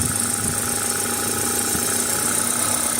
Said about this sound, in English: RPMs go up a little bit, and rotate it the other way, RPMs go down a bit